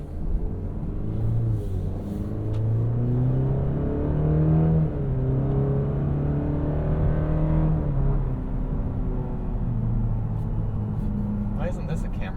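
A 2023 Cadillac CT4 engine runs with a steady low rumble and a rising, falling drone, heard from inside the cabin beneath people talking.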